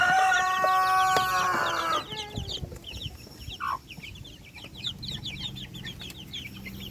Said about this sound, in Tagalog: Ito yung claret hen natin